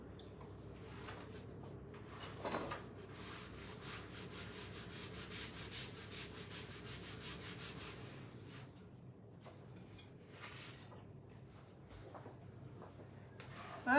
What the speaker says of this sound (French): Je te nettoie ta planche.